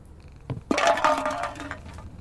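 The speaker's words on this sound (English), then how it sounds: "I hear purring." A cat in a camping area, heard as a sudden onset of a close, fairly loud, rough, buzzy purr-like sound with clinking texture that holds steadily for nearly two seconds, with no talking.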